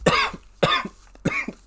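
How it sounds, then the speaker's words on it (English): A man coughs three times in quick succession, close and loud, each harsh burst followed by a brief gasp. "I'm sorry I'm coughing so much"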